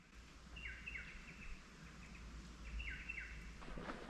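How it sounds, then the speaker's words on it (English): Birds sing at Mickeys Creek in Carnarvon National Park, two short bursts of bright chirping trills over a low rumbling background, faint and somewhat distant. "And listen to the birds."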